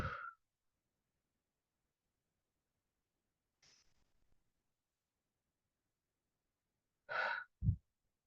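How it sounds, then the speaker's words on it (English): Two slow, deep breaths taken in quiet surroundings, each a soft audible inhale and exhale separated by long silences, close and faint. "join me in taking 2 slow deep breaths"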